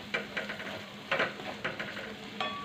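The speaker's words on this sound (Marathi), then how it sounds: "थोडीशी कोथिंबीर ती पण छान तेलामध्ये परतून घ्यायची आहे" Coriander sizzles and is stirred in hot oil as a tempering for a bitter gourd dish, with soft scraping strokes of a spoon over a steady low crackle.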